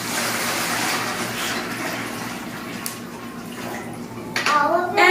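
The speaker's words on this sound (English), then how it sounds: "we are going to pour some of the warm water into our cauldron here" Warm water is poured into a cauldron with a continuous splashing gush that eases slightly before a brief louder burst near the end, with a voice talking faintly.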